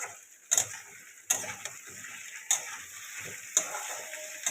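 Paneer curry frying in a pan, a steady soft sizzle broken by four or five sharp metallic clicks and taps of a utensil, fairly quiet and close, with no talking.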